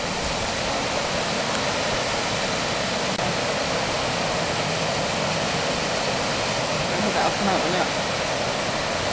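Steady, loud rush of a waterfall on the Ingleton Waterfalls Trail in the Yorkshire Dales fills the whole stretch as continuous broadband roar, with faint voices barely present beneath it.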